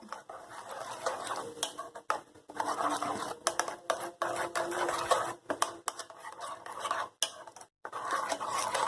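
A spoon stirs paneer through a spice marinade in a bowl, giving quick irregular scraping and clinking taps close by, with brief pauses between strokes and no talking.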